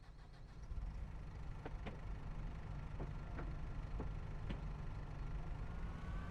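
A tractor engine in the Farming Simulator video game runs at a low, steady idle, faint and constant, with a few soft clicks scattered over it.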